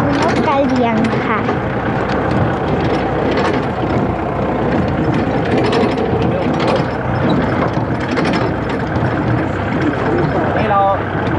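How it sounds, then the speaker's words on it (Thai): An engine rumbles steadily throughout while riding on a tractor-drawn trailer on the way to see Sarus cranes in Thailand, with voices talking over the continuous, loud mechanical noise. "เรากำลังนั่งอยู่บนรถไถลากค่ะเพื่อที่จะไปดูนกกระเรียงค่ะ"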